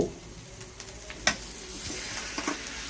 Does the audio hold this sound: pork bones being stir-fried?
yes